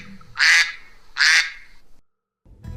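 A cartoon mother duck gives two loud, brassy quacks in quick succession, close and alone, then falls silent before a soft new sound begins.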